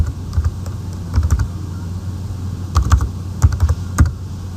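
Keys clatter on a computer keyboard as a short project name is typed, close and crisp, coming in quick bursts of several strokes separated by brief pauses, with no talking.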